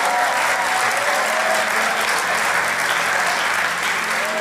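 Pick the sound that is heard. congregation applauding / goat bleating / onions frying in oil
congregation applauding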